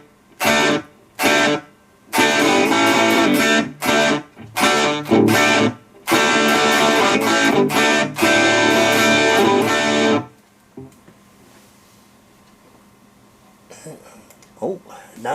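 A distorted electric guitar through Amplitube 5 amp simulation with garage room reverb plays choppy chords and bursts in a roomy, echoing space, then stops, leaving a quiet tail with faint noises.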